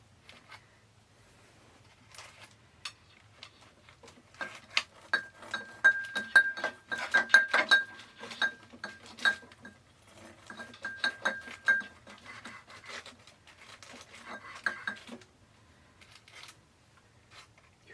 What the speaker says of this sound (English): I have my knife here so I can cut it in half and give you a profile